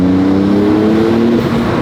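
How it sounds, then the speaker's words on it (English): Close, steady drone of a Porsche 911 (992) Turbo S twin-turbo engine and exhaust pulling through a forest drive, its engine note climbing briefly before easing off. "The exhaust isn't really that loud because of those 2 turbos"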